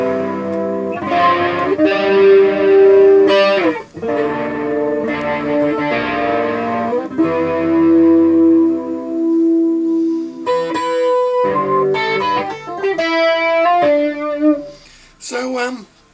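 A Burns Cobra electric guitar with Tri-Sonic pickups, in need of cleaning and new strings, plays sustained single notes and chords with some static, loud and alone, with pauses and a quieter trailing phrase at the end.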